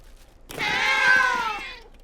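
A cartoon cat lets out a single drawn-out meow, loud and close, rising and then falling over about a second and a half, with a clear sustained tone and no talking over it.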